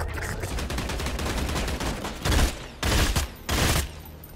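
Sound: burst-fire weapon gunfire in a video game

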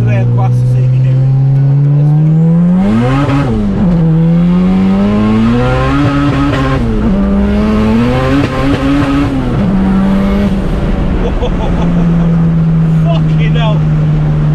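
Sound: tuned car accelerating hard through gears

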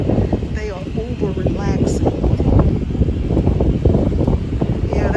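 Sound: wind picking up around an RV

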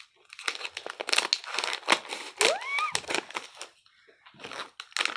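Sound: crinkling plastic bag of Disney mystery keychains being opened

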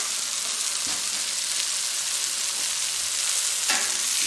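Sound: hash browns frying on a Royal Gourmet flat top grill

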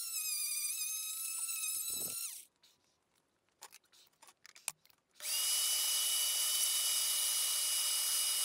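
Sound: die grinder removing casting flash from turbo manifold

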